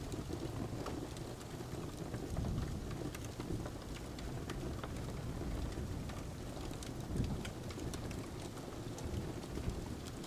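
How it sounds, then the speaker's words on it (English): Soft rain falls steadily beside a crackling fire, a quiet, even hiss dotted with small sharp pops and clicks throughout, gentle and unbroken, with no speech. "the soft sounds of raindrops and the crackles of the fire"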